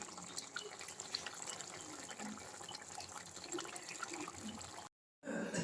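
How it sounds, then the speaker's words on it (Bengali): Cooked chicken kosha curry is poured from the pan into a serving bowl, a soft, quiet wet slosh and trickle that runs on before a brief silence and a final short burst. "এবার আমি এটাকে একটা বাটিতে ঢেলে নিচ্ছি।"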